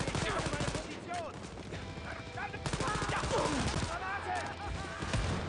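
Rapid, sustained gunfire in the shooter game Wolfenstein: Youngblood, with dense bursts of shots running throughout under excited talking.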